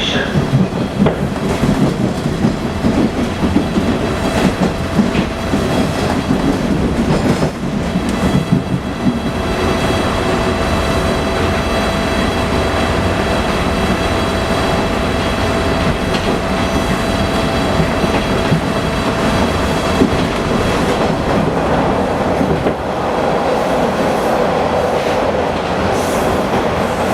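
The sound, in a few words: TTC Bombardier T1 subway train running between stations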